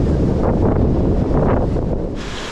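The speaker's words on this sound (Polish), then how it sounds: "jezioro Sajno mocno wzburzone wiatrem." Strong, steady wind roars and buffets across Lake Sajno, a continuous dense rush with gusts and faint lapping of waves on the storm-churned water.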